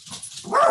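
An eight-year-old cockapoo gives a single short, loud bark close by, preceded by faint yips, with no talking.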